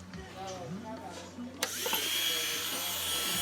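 A tiny power carving bit whines up sharply and keeps drilling a hole into a small wooden egg, a steady high buzzing that follows a stretch of quieter handling and talk.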